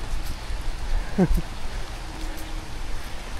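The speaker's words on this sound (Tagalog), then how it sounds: "So eto, umuulan." Rain falls steadily during a heavy downpour in Canlaon City, a constant broadband hiss with a brief louder knock midway.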